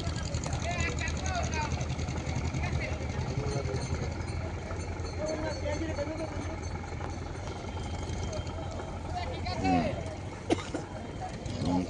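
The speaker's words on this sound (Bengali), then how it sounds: "আর ওইদিকে যাচ্ছে জাহাজ।" A ship's engine drones low and steady near the Namkhana ferry ghat in the Sundarbans, a constant rumbling hum with occasional knocks, while people talk over it throughout.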